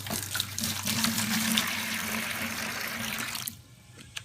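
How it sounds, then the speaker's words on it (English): Water pours from a tap or bucket into a mixing container for a concrete mud shower pan before sand topping mix is added, a steady rushing splash that runs for about three and a half seconds, then cuts off to quiet. "So what I recommend is pouring the water in first."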